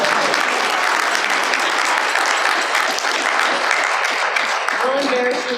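A roomful of guests at a company holiday party applauds a man's 90th birthday, dense sustained clapping that stays loud throughout, with voices mixed in.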